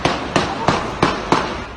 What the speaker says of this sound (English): It's the same intersection where 7 gunshots went off. You hear them in this video circulating on social media.